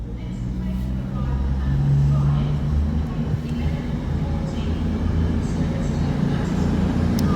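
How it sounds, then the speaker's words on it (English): A CrossCountry train departs Newcastle station bound for Edinburgh Waverley, a steady, loud rumble of engine and rolling stock filling the station, with a voice speaking over it. "departing now will be the cross-country service bound for Edinburgh Waverley"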